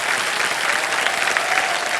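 Studio audience on the KBC game show applauding, a dense, continuous burst of clapping that fills the space evenly from start to finish.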